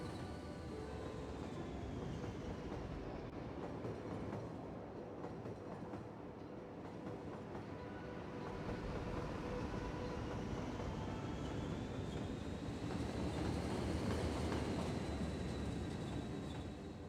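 A train rolls over a smooth turnout in the Cities: Skylines video game, a continuous rumbling rail sound with faint wheel squeal rising and falling, fairly quiet and without talk.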